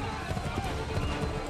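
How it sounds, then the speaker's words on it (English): Horse hooves galloping in Assassin's Creed 3, a fast, even rhythm of thuds running steadily through the brief moment, with busy game ambience around it. "I knew you could spur the horse!"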